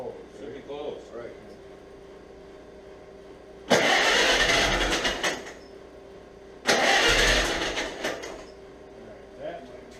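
A Farmall H tractor engine cranks and catches in two loud starting bursts after a quiet stretch, with people talking nearby before and between the attempts.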